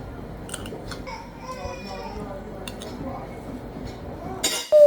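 Plates and cutlery clink and clatter softly while dishes are washed by hand after a backyard barbecue, a steady run of small metallic and ceramic taps with a louder knock at the end, and children's voices in the background.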